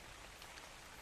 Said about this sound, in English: I can barely see with this rain.